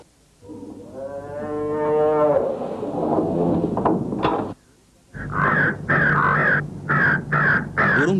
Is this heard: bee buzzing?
no